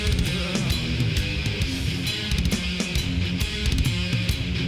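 Drums from a song, heavy recorded rock drumming with punchy kicks and sharp cymbal hits in a steady driving rhythm, loud within dense full-band music.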